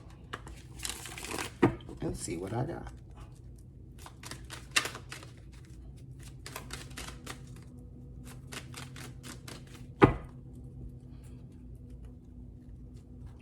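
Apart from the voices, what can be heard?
shuffling tarot cards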